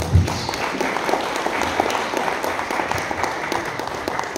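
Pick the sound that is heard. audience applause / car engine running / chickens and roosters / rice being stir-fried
audience applause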